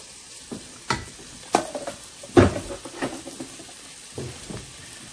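Chopped celery, leeks and onions sizzling in melted fat in a pot for clam chowder, with a soft steady fry broken by several sharp clanks and scrapes of stirring utensils against the pot, close by.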